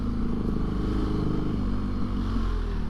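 A BMW motorcycle engine idles and rumbles at low revs, a steady deep throbbing exhaust note close by, with no talking.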